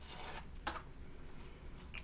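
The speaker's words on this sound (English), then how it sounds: "I'm just going to remove my tape here" Tape is peeled off a faux leather mini purse after its back rivets are hammered in, giving a soft rasping tear with a brief sharper rip partway through, close and fairly quiet.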